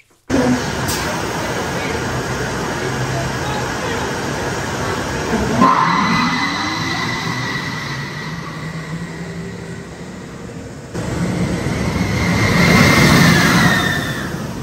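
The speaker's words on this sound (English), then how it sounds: "here's what the train sounds like on the other side" A linear induction train rumbles past with steady broadband noise, a rising swell midway and a louder, brighter roar toward the end, heard close by without talk.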